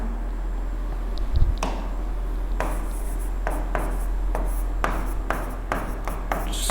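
Chalk or pen writing out a quadratic equation during a maths lesson, a series of short scratchy strokes and taps, close and fairly quiet, with no talking over them.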